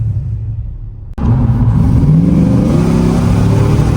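An old $900 truck engine idles in a low, quiet rumble, then suddenly bursts into a loud, sustained revving roar that holds steady to the end.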